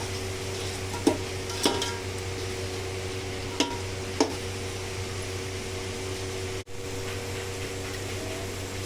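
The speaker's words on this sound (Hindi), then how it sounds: "सबको अच्छे से मिक्स करके थोड़ी देर भूनेंगे।" Chicken and spices for biryani frying steadily in a pan, a continuous dense sizzle with a few sharp spoon taps as the mixture is stirred, then a brief dropout near the end.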